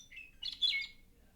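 A short, clear western meadowlark song with a few fluty, warbling notes, heard alone over quiet background hiss.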